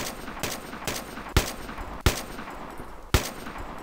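A PKP machine gun in a DICE video game fires several rapid bursts with punchy reports and echoing tails. A few heavier shots stand out in the sequence.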